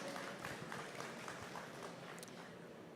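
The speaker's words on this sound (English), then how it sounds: "A big round of applause for our speakers." Faint, distant applause from an audience after speakers at a farm show, a soft, steady patter of many hands clapping in a large hall.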